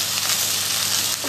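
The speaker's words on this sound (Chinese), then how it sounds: "你見到咧嗰個蝦咧已經有一邊咧開始煎到少少微黃" Shrimp pan-fry in a pan for soy sauce chili shrimp spaghetti, producing a loud, continuous close-up sizzle with a steady hiss and no talking.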